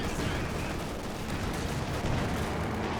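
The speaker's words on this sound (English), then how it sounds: "Double Panzer IV firing away" Dense, continuous battle noise from Company of Heroes 2, with Panzer IV tanks firing amid loud layered booms and rumbling gunfire across the whole stretch, no voices.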